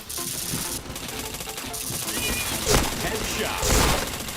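Rapid bursts of automatic gunfire and impacts from the online shooter Point Blank, a dense, loud stream of shots with brief louder thumps, with a voice talking faintly underneath.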